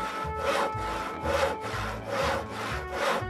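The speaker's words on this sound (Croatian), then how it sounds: "Pila je alat za rezanje drva." A hand saw cutting through wood in steady back-and-forth strokes, about six rasping passes over three seconds, close and fairly loud, with no voices.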